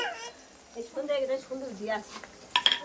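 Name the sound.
stirring and frying khichuri in a pot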